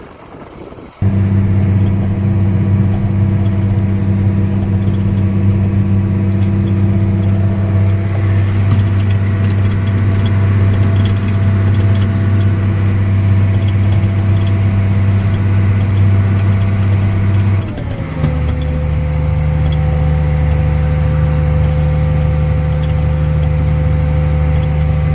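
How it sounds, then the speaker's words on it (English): A farm tractor pulling a soil finisher for spring seedbed preparation runs with a steady, loud, low engine drone that stays constant, dipping briefly in pitch and load partway through before settling again. "today we're getting ready to run a soil finisher to prepare it for a seed bed to hopefully plant some corn in"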